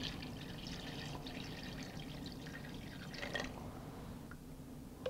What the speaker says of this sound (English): Add cold water over.